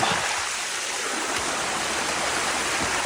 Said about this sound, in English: we're going up the stream, looking for a place to take in water